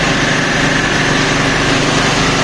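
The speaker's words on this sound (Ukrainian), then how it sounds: "І гудуть генератори." Power generators drone steadily outside a café in a backyard courtyard during a power outage, a loud, continuous engine hum with no pauses.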